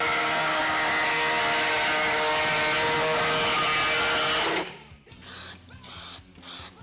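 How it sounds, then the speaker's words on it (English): A small pneumatic air hacksaw cuts a hole in metal on a Nissan Patrol, a loud continuous buzzing rasp that stops abruptly and leaves a few quieter clattering bursts. "I've got a little SP air hacksaw. This is gonna make light work of this."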